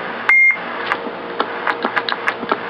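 Galaxy DX-979 CB radio sounding a single short, clear roger beep, followed by faint clicks and low crackle from the radio afterward.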